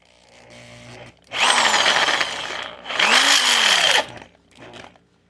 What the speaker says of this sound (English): So I'm going to go ahead and line my drill bit up, try and make sure that I'm relatively straight, and drill this out